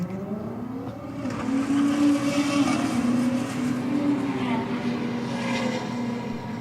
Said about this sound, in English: You just hear that car come on boost and then it's gone.